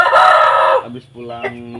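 A rooster crows loudly and close for nearly a second, a strong drawn-out call, then drops into softer clucking as the crow tails off.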